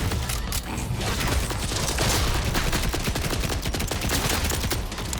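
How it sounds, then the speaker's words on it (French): Explosions and gunfire rage in Borderlands 4, a dense, continuous, loud barrage of overlapping shots and blasts with no pauses throughout. "Ça explose de partout, hein."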